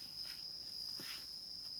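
A cicada in a forest gives a steady, piercing high-pitched drone that carries through the whole moment, joined by a couple of faint soft rustles nearby.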